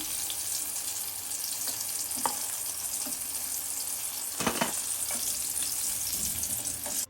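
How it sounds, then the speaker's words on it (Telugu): Chicken popcorn frying in hot oil, a continuous close sizzle and bubbling hiss with occasional louder spits and a brief scraping stir near the middle. "కాలుతున్నాయి వేడి వేడిగా చూడండి ఎంత క్రిస్పీగా ఉందో"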